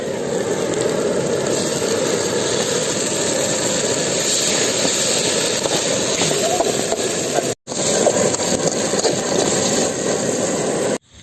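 A newly bought roadside cooking stove, lit for making mushroom gravy during a stormy downpour, gives a loud, steady, continuous roar throughout, with one brief cut partway through.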